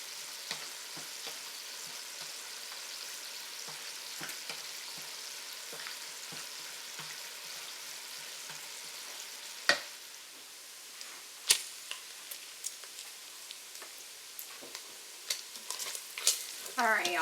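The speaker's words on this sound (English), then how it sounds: "while this bacon cooks, get all of your ingredients prepped and chopped" Bacon cooks in a pan with a soft, even crackling sizzle, then sharper pops and spits grow more frequent toward the end, heard close and quiet with no talking.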